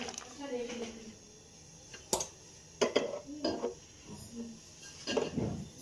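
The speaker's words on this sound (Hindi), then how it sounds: "इधर हम ना इसे मिक्स करेंगे इस बाउल में" Chopped vegetables and coriander being mixed in a metal bowl, with scattered clinks and scrapes of a spoon against the bowl and soft squishy stirring, close by, while someone talks over it.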